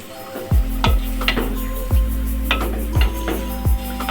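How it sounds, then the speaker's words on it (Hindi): Chicken fries in a pan on high flame, with a close sizzle broken by regular clanking strokes of a spoon stirring and scraping the pan. "ये चिकन फ्राई होना स्टार्ट हो गई"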